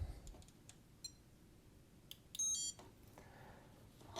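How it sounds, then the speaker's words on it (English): A Peak ESR70 in-circuit capacitor tester gives a short, loud electronic beep about midway, set against faint clicks and low background hum while it tests a small capacitor in vintage stereo equipment. "This is a great in-circuit capacitor tester. Let's test out that little cap."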